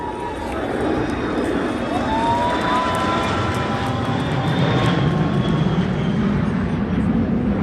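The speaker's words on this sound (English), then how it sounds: "they had 4 jet fighters fly down the length of Main Street" Four jet fighters flying low down the length of Main Street at Magic Kingdom during a Fourth of July celebration, a loud sustained roar with a rising whine that fills the whole stretch, crowd noise underneath.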